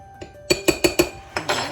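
A spoon stirs dry cookie ingredients, flour with baking powder and baking soda, in a bowl for pumpkin chocolate chip cookies, giving a close run of four quick, evenly spaced clinks, then a short pause and two more clinks, with no talking.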